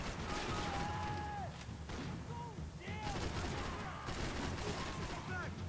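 Dense gunfire from Max Payne 3 gameplay, a steady barrage of loud shots with chirping game effects running through it, with a voice talking over it.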